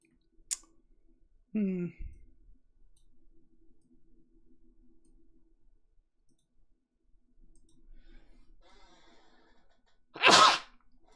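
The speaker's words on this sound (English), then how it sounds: "Sorry, cannot stop sneezing." A single sharp sneeze bursts out near the end, after a few faint clicks and a short vocal sound earlier, in an otherwise quiet room.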